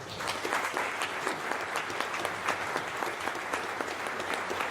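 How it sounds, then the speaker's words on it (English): A crowd applauds continuously, many hands clapping in a dense, even patter at moderate volume throughout. "big round of applause to James and Derek, please"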